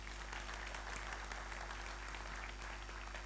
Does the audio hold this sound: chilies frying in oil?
no